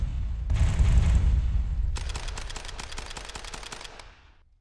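A heavy low boom from a First World War game opens into a long rattle of distant rapid firing that slowly fades out near the end. No voices are heard.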